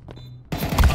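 A shotgun firing in Counter-Strike 2: a quiet lull, then a sudden sharp, loud blast halfway through, followed by punchy booming reports and echoing impacts.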